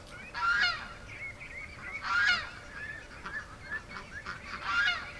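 Farm ducks call as they return from and head down to the creek, giving three loud honking bursts spaced about two seconds apart, with softer calls in between, outdoors near a barn.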